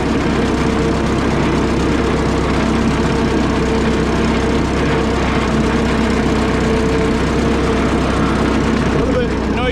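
A tractor nicknamed Rosie runs steadily with a loud, continuous low engine drone and an idling rumble, a rough, noisy rear end adding grinding texture throughout, with no pause in the noise.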